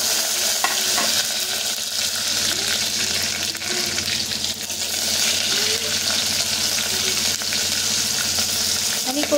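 Garlic, curry leaves and chillies sizzling in hot oil in a pan, a continuous close crackling fry with scraping stirs throughout, a voice faintly in the background.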